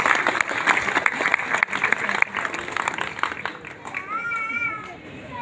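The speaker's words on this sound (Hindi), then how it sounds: "उनका भी हार्दिक स्वागत और अभिनंदन करते हैं जोरदार तालियों से" A crowd at an outdoor public political rally claps loudly and densely, with crowd noise mixed in. The applause thins toward the end as a high, wavering whistle-like tone rises above it.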